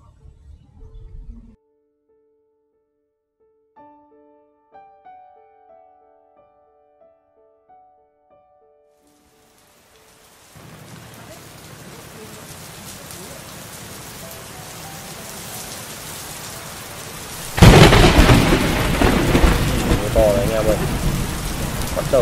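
Heavy rain at a fishing spot comes in after a quiet opening with a few faint tones, rising to a steady hiss around the middle and then surging into a loud, close downpour for the last few seconds.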